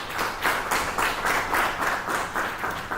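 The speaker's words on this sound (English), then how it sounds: "A round of applause" An audience at a remote sensing and agriculture talk claps after a presentation, dense applause pulsing in waves and staying loud and close throughout.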